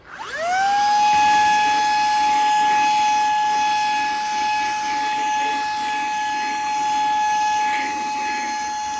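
A powerful cordless car vacuum cleaner whines up to a steady high-pitched motor tone with a rushing airflow hiss, running loud and close without letup.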